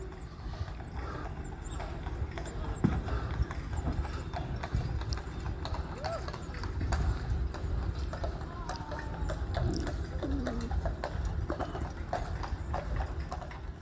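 Horse hooves clip-clop steadily along a street on Mackinac Island, where no motor vehicles run, a continuous near-to-mid-distance trotting rhythm over outdoor ambience, with a brief neigh-like sound partway through.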